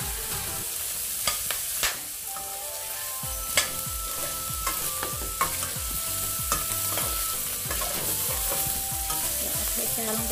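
Pork belly with pheka (Indian trumpet tree pods) stir-fried in a pan, a steady sizzle broken by repeated scraping and knocking of the spatula at an irregular rhythm, close and continuous with no voices.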